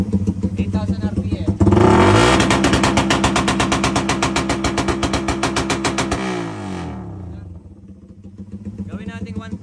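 Motorcycle engine held at about 8,000 RPM, a loud, rapid, buzzing drone that starts abruptly, holds steady for several seconds, then drops away. Talk is heard before and after it.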